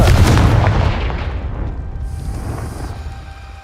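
A loud fiery blast from the Confringo spell in Hogwarts Legacy, booming up front and trailing off into a long rumbling decay with no talk over it.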